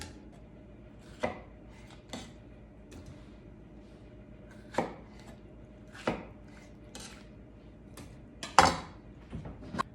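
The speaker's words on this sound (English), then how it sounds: "Rough chop your tomatoes." Tomatoes roughly chopped with a knife on a cutting board: sparse, irregular sharp knocks a second or more apart, close and clear against a quiet background, with no talking.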